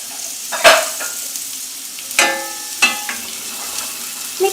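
Boiled, salted black gram is stirred into a hot masala mixture in a pan, with a low background sizzle and several sharp clinks and scrapes of a spoon against the pan.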